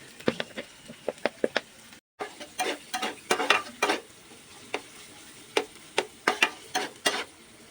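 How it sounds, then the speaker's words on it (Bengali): Onions fry in a pan under a soft sizzle, with quick spatula clicks and taps against the metal coming in irregular bursts and one brief silent break. "পেঁয়াজটাকে সুন্দর করে আর কি আমি ভেজে নিব"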